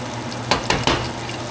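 Small fish sizzling in hot lard in a pan on a stove, a steady crackling fry broken by three sharp clattering bumps, close and clear.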